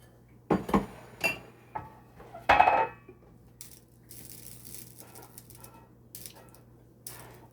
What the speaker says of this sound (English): Just have to keep stirring.